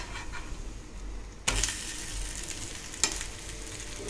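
Tapioca kaara adai fries in sesame oil on a pan with a steady close sizzle, broken by two sharp spatula scrapes and knocks as it is worked and turned.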